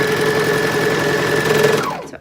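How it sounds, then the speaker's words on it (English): A sewing machine runs steadily, stitching a circular skirt seam with the fabric turned under the presser foot, a continuous motor whir with a fixed hum, then stops abruptly near the end. "So as I start to sew"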